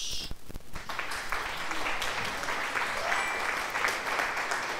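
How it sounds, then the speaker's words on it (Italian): A crowd claps steadily, a dense patter of many hands applauding for several seconds, fairly close and continuous. "Facciamo un bel applauso"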